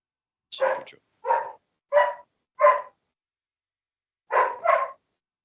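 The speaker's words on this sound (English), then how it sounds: "Can you hear my dog?" A pet dog indoors in a woodturner's home gives six sharp barks, four in a steady row and then a pair after a short pause, clear and moderately close against silence.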